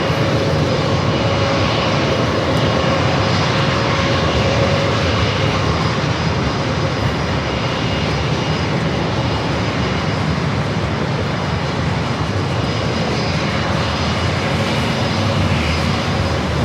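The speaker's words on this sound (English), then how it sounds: "JetBlue A321 up next." A JetBlue Airbus A321 jet at San Diego airport roars steadily and loudly for the whole stretch, a broad continuous engine rumble and whine with no voices over it.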